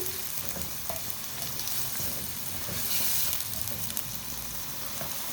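Onions fry over a medium flame in a pan for aloo gosht, giving a steady, close, loud sizzle with soft stirring scrapes throughout.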